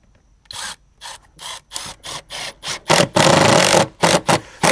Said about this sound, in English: we're going to put 1 screw every 12 inches along the top